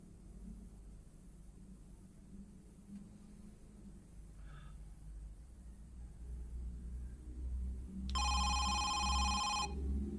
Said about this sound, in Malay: Dia telefon.